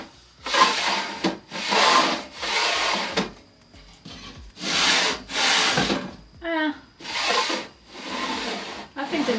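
Makeup vanity drawers fitted with removable partitions slide open and shut repeatedly, each pass a rough wooden rubbing scrape lasting about a second, in a steady rhythm, with a brief clatter partway through.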